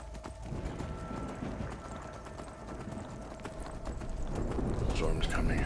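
Hooves of a ridden horse in a video game clip-clop in a steady, quick gait, fairly quiet, with talking over them and a rising rumble toward the end.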